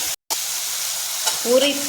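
Steady broadband sizzle of elephant foot yam frying in hot oil, with a brief dropout near the start and a faint scrape of stirring toward the end.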